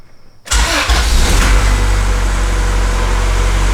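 A car engine with solid motor mounts cranks and catches after a repair, then settles into a loud, even, steady run close by with no sputter or misfire.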